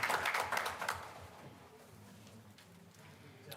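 Brief round of clapping from a modest crowd honoring people at a regular public board meeting, fairly faint and loosest at the start, then fading within a second or two into quiet room noise.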